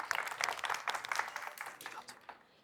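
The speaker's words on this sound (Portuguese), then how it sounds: "Uma salva de palmas para eles." An audience at a corporate training congress applauds the speakers with a short burst of dense clapping, fading away toward the end.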